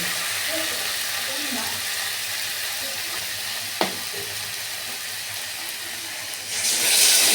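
Water poured into a pan of frying spiced potato curry for aloo dum gives a sharp hiss over continuous oil sizzle, then the frying sound surges and brightens toward the end.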